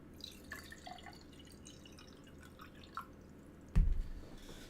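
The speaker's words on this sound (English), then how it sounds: "need to pour some water here" Water from a container dripping and trickling into a glass or sink at a desk, with small splashes and a brief louder splash near the end, fairly close and quiet.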